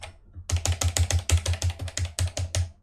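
Keys are tapped in a rapid, even run on a Sinclair ZX Spectrum +2 home computer keyboard that has sticking keys, about a dozen close, crisp plastic clacks in a row with no talk.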